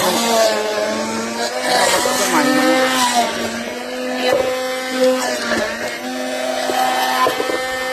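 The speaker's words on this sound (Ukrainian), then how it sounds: "беру погружний блендер, починаю взбивати" A high, steady whine of an immersion blender whipping mayonnaise made from boiled eggs runs throughout, pitch wavering slightly as it works, loud and close.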